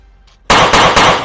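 Three loud, sharp gunshots ring out in quick succession in the mountains, each a sudden broadband crack with a short decay. A faint murmur comes just before the first shot.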